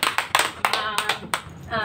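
A handful of sharp, separate claps from an audience at a business presentation, roughly evenly spaced over two seconds and fairly close, with a voice faintly present underneath.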